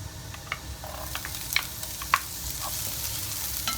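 White onion sautés in a pan, a soft, steady sizzle broken by a few sharp scrapes and clicks from stirring.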